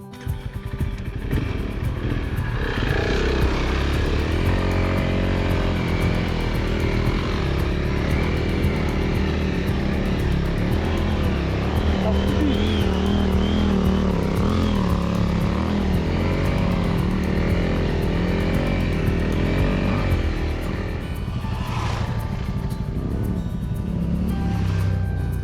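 Honda CRF300L motorcycle ridden off-road through deep sand during a rally, its single-cylinder engine droning loudly and continuously with rising and falling revs as it struggles in the wrong gear.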